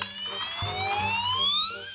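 A toy ambulance siren sounds a short, rising electronic wail, fairly loud and close, over a faint low background.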